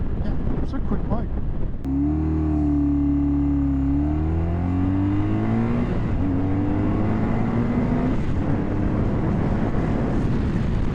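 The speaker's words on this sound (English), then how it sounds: "Full throttle. Yeah, it's a quick bike." A 2009 BMW R1200RT motorcycle accelerates at full throttle, its engine note climbing through several rising pitch sweeps as it shifts up, loud and close under wind noise.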